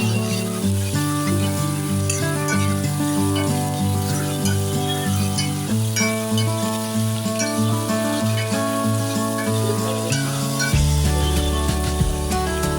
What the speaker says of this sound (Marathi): आपण एक दोन कांदे घातलेले आहेत का यात हे ना परतवून घेऊया